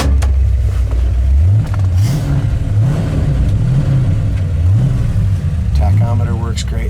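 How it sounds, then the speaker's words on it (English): A 1962 Chevrolet Bel Air's engine runs steadily up close, its low rumble rising and falling in repeated gentle revs, with steady mid-level background noise throughout. "Tachometer works great, and this car runs fantastic."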